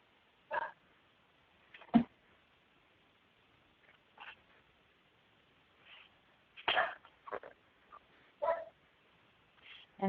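A pet dog barking a morning greeting indoors: a handful of short, muffled barks scattered irregularly over several seconds, fairly faint and thin in tone, with quiet gaps between them.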